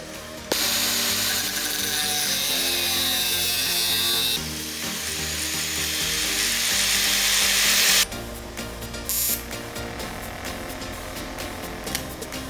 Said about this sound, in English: So I'm going to cut off both these places.